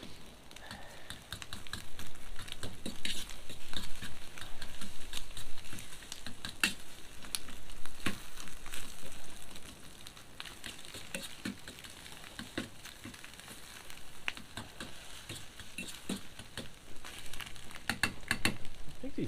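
Scrambled eggs and Spam in oil sizzle and patter in a GI mess kit pan on a small pack stove, with sharp scraping clicks of stirring scattered throughout at close range.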